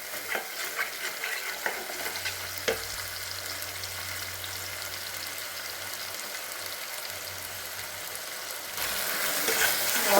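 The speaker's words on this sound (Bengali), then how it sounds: "এবার তেলটা দিয়ে দিচ্ছি। এটা এখন আমি ভালো করে কষিয়ে নিই।" Spice paste for raw banana kofta curry frying in oil in a pan, a soft continuous sizzle with occasional scraping stirs, close but fairly quiet, growing a little louder near the end.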